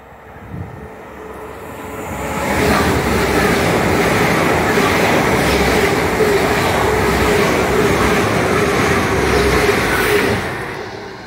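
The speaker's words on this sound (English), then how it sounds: "Oh, and there's an IET." A double-unit IET intercity express train passes through Starcross station, a loud, sustained rumble that builds over the first couple of seconds, holds steady, then begins to fade near the end, with no talk over it.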